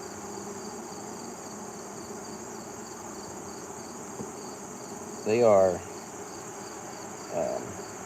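A honeybee colony opened during an apiary inspection gives a faint, steady droning hum throughout, with a short spoken remark partway through.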